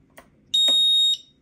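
A flight-controller buzzer on a Heewing T1 Ranger RC VTOL plane sounds a single sharp, high-pitched electronic beep about half a second long, close and clear, with faint clicks around it.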